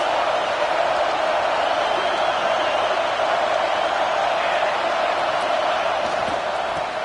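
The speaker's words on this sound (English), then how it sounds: "This crowd trying to make life miserable for this offense." A college football stadium crowd at a Wake Forest at NC State game fills the air with a loud, sustained roar of massed voices, steady and unbroken throughout.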